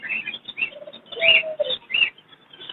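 Lovebirds in cages at a Sunday bird market chirp in short sharp bursts, several bright calls close by over faint market background noise.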